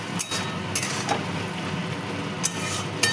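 Chopped tomato and kasuri methi are stirred into a pan of potato and egg curry, a steady scraping and soft sizzle broken by a few sharp clinks of the spoon against the pan.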